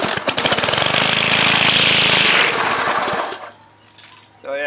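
A wheeled walk-behind string trimmer engine runs loudly with a rough chugging drone, then cuts out around three seconds in as the spinning line winds down quickly, leaving near-silence before a voice speaks at the end.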